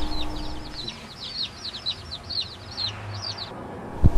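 Chickens give repeated short calls, rising chirpy notes in a steady series over outdoor background noise in Key West, ending with a sharp thump.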